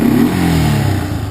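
A custom-built 1986 Yamaha Moto 4 200 ATV engine revs close by, a short loud burst of deep exhaust note that climbs and then settles back.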